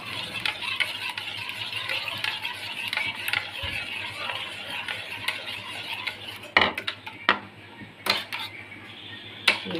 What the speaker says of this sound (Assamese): অলপ ফেটি ল'ব লাগিব চেনিখিনি ইয়াত মিক্স হৈ যায় পূৰাকৈ